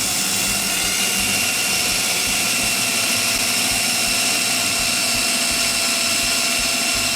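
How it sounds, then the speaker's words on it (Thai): A drill fitted with a hole-cutting bit bores into a box for a homemade two-hose portable air conditioner, producing a loud, steady, unbroken whine with a rough mechanical rumble beneath it, close up and without talk. "เราก็ใช้ตัวนี้นะครับใช้ดอกสว่านตัดนะครับ"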